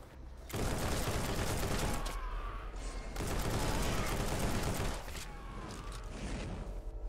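Sustained bursts of automatic assault rifle fire in a video game, dense and loud across the whole stretch with brief dips between volleys and faint voices underneath.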